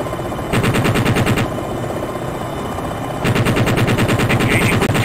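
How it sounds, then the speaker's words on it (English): In Jane's Longbow, a Longbow helicopter's cannon fires in two long bursts of rapid automatic fire, loud and close, separated by a pause filled with a low engine rumble. "Engaging with cannon."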